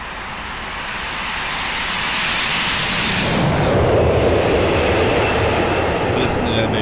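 Boeing 727 jet engines roar loudly in an X-Plane 11 flyby, a steady rising rumble that swells and shifts in pitch as the airliner passes close, with no talk over it.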